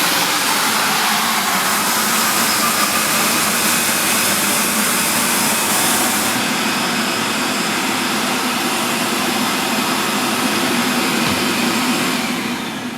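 A Viper AS510B walk-behind floor scrubber runs with its brush scrubbing and solution going down while the vacuum dries, giving a steady, loud, close whine and whoosh that holds unbroken for the whole stretch with no talk.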